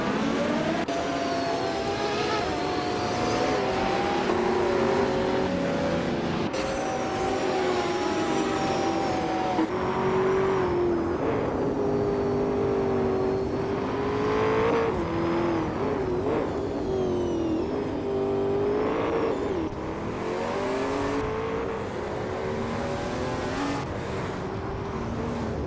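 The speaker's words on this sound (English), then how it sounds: "The race is just kicking off at Donington Park Vintage. Casey Winboy is starting on pole in a 1994 Nissan 300Z X Turbo IMSA in the Retro GT 500 class" Video game race at Donington Park, led by a 1994 Nissan 300ZX Turbo IMSA in a Retro GT 500 class, with loud continuous engine roar and shifting revs of several cars throughout, no talk.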